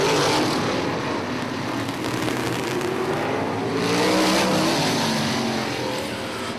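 Several sprint cars race side by side down the back straightaway of an oval at a Checkered Flag Sprints event, a dense, loud, continuous engine roar that swells and holds throughout with no talk.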